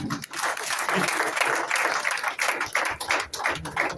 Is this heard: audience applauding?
yes